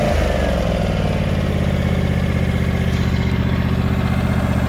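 A 52-inch Ariens Icon-X zero-turn riding mower's engine idles loud and close with a steady low rumbling throb, alone and with no talking.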